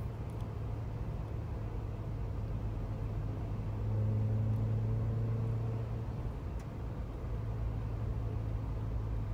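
A 1993 Peugeot 205 1.9 CTI Cabriolet's engine and exhaust drone steadily while driving, a low continuous rumble that swells briefly as the revs rise midway, then settles back.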